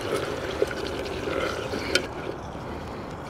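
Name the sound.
water being poured from a pot outdoors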